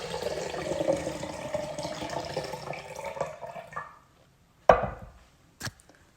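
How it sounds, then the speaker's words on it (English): Water poured from one jar into another while making fermented pickles: a steady splashing pour lasting about four seconds, then silence broken by two sharp clinks of the jar. No one speaks. "Pour this water over into the new jar."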